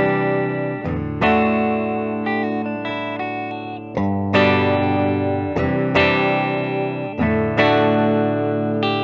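A natural-finish 1991 Gibson Les Paul Custom electric guitar on its neck pickup plays loud, distorted sustained chords, struck about every second and a half and left ringing, alone with no talking.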